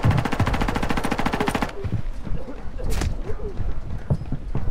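Rapid automatic gunfire in a video game shooter, a dense burst of fast regular shots for nearly two seconds, then scattered single shots and battle noise.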